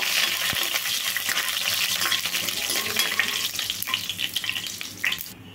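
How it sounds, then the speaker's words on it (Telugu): Steady, bright sizzling of urad dal, chana dal, cumin and dried red chilies frying in hot oil, a continuous crackly hiss close by, with a brief low knock near the start. "చూడండి, తాలింపు అయితే వేగిందండి."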